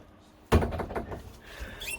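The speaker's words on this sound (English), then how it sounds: "then opening up the other door, there's the other half of it" An RV cabinet door opens with one sharp knock-like clack, then a short rattling creak and a faint higher squeak as it swings, all close by and quiet.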